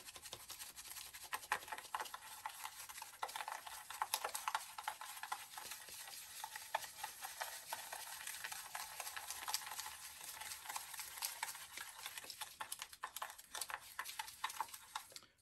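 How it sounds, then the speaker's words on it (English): Sugar scrub being mixed by hand, a continuous gritty scratching and stirring texture of white sugar granules, quiet and close, with irregular rhythmic strokes throughout. "So you mix it until you can't mix it no more."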